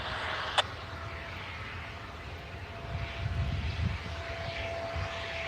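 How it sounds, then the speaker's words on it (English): A steady low rumble and mechanical drone drifting from a CSX railroad yard, heard from a distance outdoors, swelling slightly partway through, with a brief sharp click near the start. "That noise you hear is over in the yard,"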